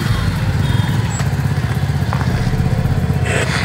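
A Suzuki V-Strom SX 250cc twin-spark motorcycle engine rumbles steadily at close range, its exhaust giving a continuous throaty burble with a few faint clicks and clatters.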